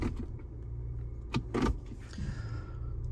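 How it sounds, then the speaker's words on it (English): Driver's door of a 2023 Mazda CX-50 Premium Plus swinging shut, a close, solid thump with a brief latch clunk after quiet cabin sounds and a faint whir. "So let me shut the door and show you here."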